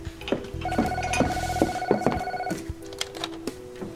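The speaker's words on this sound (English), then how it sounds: "Hey, Diana, will you do me a favor and get that phone" A telephone ringing indoors, a tonal electronic ring repeating in short pulses, loud and close, with faint clicks and movement after it stops.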